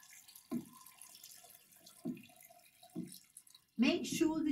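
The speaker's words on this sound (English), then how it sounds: "And then we need some water. Just cold water onto it all." Cold water poured into a jar packed with plant matter for dye making, heard as a few short splashy pours followed by a louder sustained gush near the end, with a voice talking in between.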